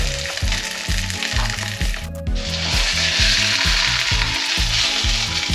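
A pork loin sears fat side down in a hot pan, giving a loud, steady sizzle throughout. A repeating low mechanical clatter runs underneath the whole time, and no one speaks.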